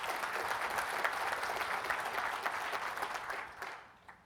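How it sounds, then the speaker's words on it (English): A conference audience at a MySQL talk claps steadily in a dense, even round of applause that thins and fades out over the last half second. "I just wanted to ask you to give Oracle the round of applause for that"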